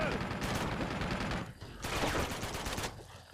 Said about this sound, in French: Il y en a un autre qui me tire dessus